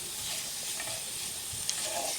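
Garlic frying in oil over a medium flame for tarka dhal, a soft steady sizzle close by with light stirring scrapes and one small sharp tick.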